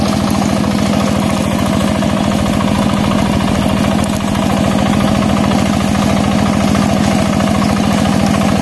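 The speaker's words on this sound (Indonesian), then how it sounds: "Nah, ini lagi traktor sobat ya." A tractor engine runs steadily in rice fields, a loud, close, unbroken chugging drone with a fast regular pulse throughout, no voices over it.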